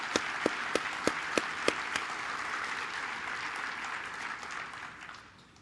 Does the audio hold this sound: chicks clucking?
no